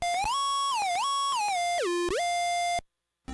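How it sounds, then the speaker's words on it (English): A Catskull Electronics Chipgear Game Boy Advance MIDI synth plays a buzzy chiptune bass line with pitch glides between notes, then cuts off into silence. "I find you can get pretty good bass sounds from this particular channel."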